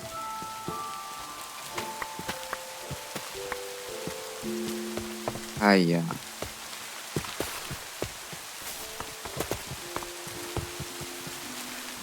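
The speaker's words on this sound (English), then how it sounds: "Why is it raining?" Steady rain pattering on a surface with scattered close drip taps, accompanied by musical tones and a rising sweep midway; a voice briefly speaks.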